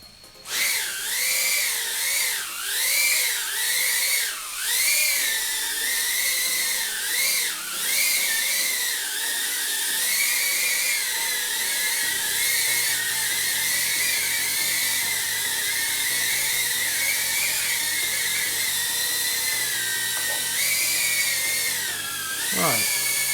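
An FPV drone's motors whine in flight, high tonal pitches swooping up and down as the craft jiggles, then holding a steady hover hum, loud and close, with a sharp drop at the end.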